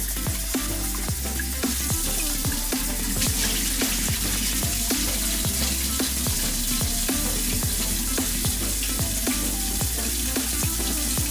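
Rice being washed by hand in water before cooking Jamaican coconut rice, a steady wet swishing with rapid small clicks and splashes running throughout, close and fairly loud.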